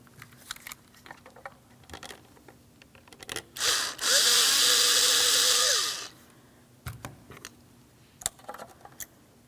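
A power screwdriver runs on a screw holding the mirror switch in a 2006-2010 Hyundai Sonata door panel, a steady close whir lasting about two seconds between small clicks and handling noises.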